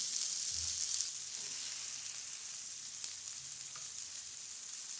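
Sliced onions sautéing lightly in a hot pan, giving a steady close sizzle and hiss throughout with a faint clink or stir partway through, no voices.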